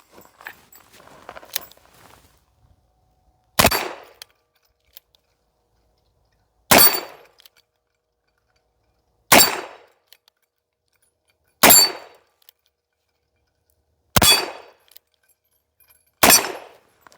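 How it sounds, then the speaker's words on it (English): An 1858 Remington revolver fired one-handed at targets, six sharp, loud shots spaced a few seconds apart. Each report cracks alone, and quiet handling noise comes first. "now I'm gonna shoot the one-handed method again."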